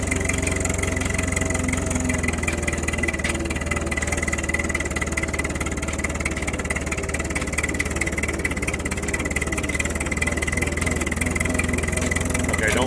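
An engine pulls under load in third gear during a governor test, producing a steady, loud, unbroken mechanical drone that holds close and even for the whole stretch.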